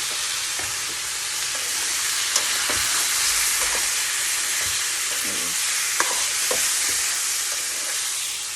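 Winter vegetables sauté over fairly high heat as a spatula stirs them in a pan: a continuous close sizzle with occasional scraping and tapping strokes, and no voices.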